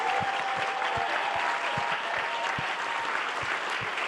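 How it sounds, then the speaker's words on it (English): Audience applause for contributors at the New York premiere of Gutsy, a full room of people clapping together in a dense, steady roar, with individual claps popping out near the front. "Could we actually ask all of our contributors to stand for a round of applause?"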